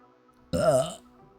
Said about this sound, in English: even burping feels weird with my throat now